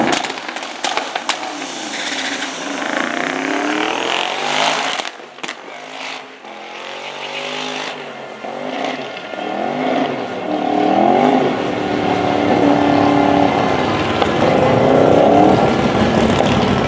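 A Classic Mini race car on a drag run at a street racing event: sharp crackling bursts up front, then a loud engine note rising repeatedly through the gears as it accelerates away.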